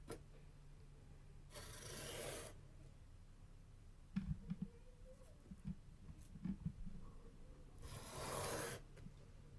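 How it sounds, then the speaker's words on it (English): Sandpaper rasps on a watch caseback to give it a brushed finish, using 400 grit. Two quiet bursts of rubbing a few seconds apart frame some soft knocks and handling noises at the bench. "So I use 400 grit sandpaper to make a brushed finish look."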